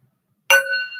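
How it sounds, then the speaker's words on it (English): Chimes struck once during a sound-healing meditation ring out with a bright metallic strike, then a clear sustained ringing tone that lingers, close and alone. "Some chimes for us."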